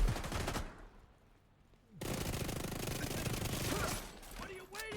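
Video game gunfire in The Division 2, fired while surrounded: a sustained, loud automatic burst, a short lull, then another dense stretch of rapid shots that tapers near the end.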